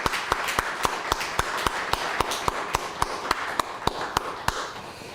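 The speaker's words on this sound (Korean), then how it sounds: "우리 박수로 하나님께 영광 돌리겠습니다" Steady, rhythmic hand claps, roughly three per second, sharp and evenly spaced over a soft background murmur, as a church congregation claps together in time during an Easter Sunday service.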